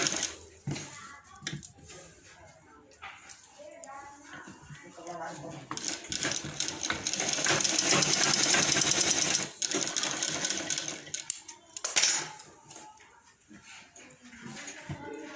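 A sewing machine stitches the pleat of a lined blouse in short whirring runs and one longer burst, with clicks and rattles between runs and someone talking over it.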